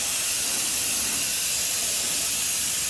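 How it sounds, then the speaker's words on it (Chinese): Compressed air hisses steadily out of a tour bus's tyres as they are deflated to free the bus stuck at an underpass exit; a continuous bright, even rush with no talk. "立刻找来轮胎行，把4个轮胎都泄气，"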